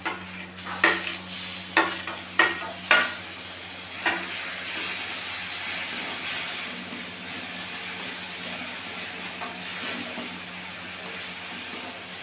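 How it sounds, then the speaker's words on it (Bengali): Masala of ginger, cumin, chili and garlic paste stirred and frying after tomato paste is added for a Bengali ghugni dish, with several scraping spoon strikes at the start, then a steady close hiss of sizzling oil. "দেবো টমেটো বাটাটা"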